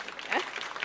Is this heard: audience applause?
yes